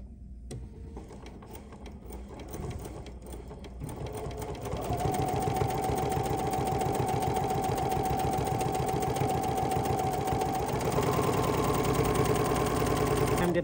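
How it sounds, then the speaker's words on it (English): A sewing machine stitches a straight seam around a fabric tray, its steady rapid motor hum starting softly then running loud and continuous. "I can just do a little straight stitch all the way around to close my piece"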